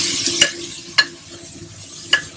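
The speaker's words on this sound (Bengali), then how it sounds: "তো এরপর এখানে চলে গেল সেদ্ধ সয়াবিন আর আলু।" Boiled soybean chunks and potato going into a hot frying pan with oil, a soft sizzle running throughout, punctuated by three sharp spatula knocks against the pan, close and alone without talk.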